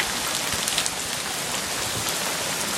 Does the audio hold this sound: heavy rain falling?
yes